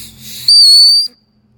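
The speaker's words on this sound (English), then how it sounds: "Extremely loud whistle." A sharp, piercing whistle blast from a watertight whistle rings out for about half a second, loud and close, after a brief soft breath of air.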